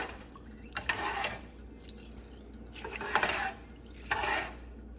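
A spoon stirs seasoned cooked rice in a pot, three soft scraping, clinking bursts spaced a second or so apart, fairly quiet and close.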